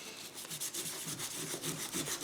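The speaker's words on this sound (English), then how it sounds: "wetting it and sanding it and wetting it and sanding it until it feels smooth" Steady back-and-forth rasping of wet sandpaper scrubbing over a Damascus steel knife blade, rhythmic repeated strokes, close and continuous.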